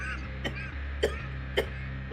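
A man coughs and clears his throat after straining his voice impersonating Macho Man, three short rough bursts spaced about half a second apart, close and fairly quiet over a low steady hum.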